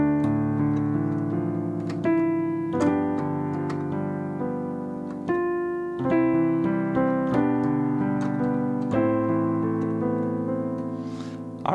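Chords from a song played on piano, with a slow series of sustained, ringing chords struck one after another, some with added color notes, each fading before the next.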